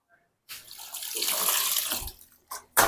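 Water splashing and sloshing as clothes are washed by hand, a steady rushing wash lasting about two seconds, then two short splashes.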